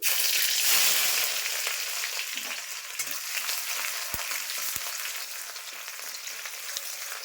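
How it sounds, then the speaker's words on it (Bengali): Steady, dense sizzle of onions frying in hot oil with bay leaf, loud and close, with a couple of faint clinks of a utensil and no voices. "পেঁয়াজ ফোড়ন দিচ্ছি"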